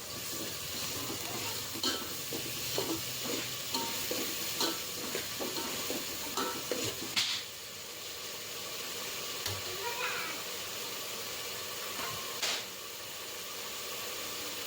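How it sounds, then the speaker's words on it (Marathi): Ginger-garlic paste sizzling in a pan while being stirred, for a chicken fry and curry; a soft steady hiss with scraping stir strokes early on, then a few isolated clinks against the pan. "त्यामध्ये मी आता आलं लसणाची पेस्ट टाकणार आहे। आता हे मिक्स करून घेणार सर्व।"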